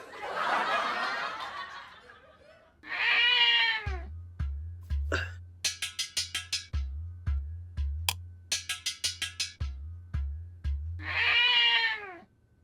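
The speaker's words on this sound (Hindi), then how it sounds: "अरे ये तो बिल्ली है।" A cat meows loudly up close several times, long drawn-out cries, separated by rhythmic thumping and clicking sounds.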